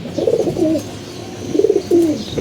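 Loft pigeons coo close by in two separate rolling, throaty phrases with a short pause between them.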